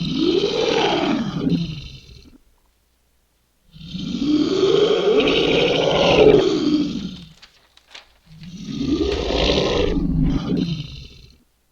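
Three long, deep roars with growling, grunting texture from an ice monster creature in a crypts and catacombs setting, each lasting a couple of seconds with short silent gaps between, loud and close.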